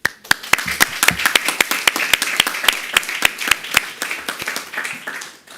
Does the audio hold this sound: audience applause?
yes